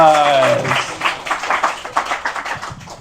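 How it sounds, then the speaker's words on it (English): A live audience gives a round of applause at a dating-themed show, claps rising in uneven bursts for about three seconds, with voices and cheering over the start. "Everyone, applause. Round of applause."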